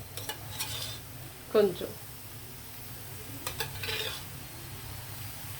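Pumpkin halva made with jaggery cooks in ghee in a pan, stirred with a few soft scrapes and a brief metallic clink over a low steady sizzle, while someone speaks briefly.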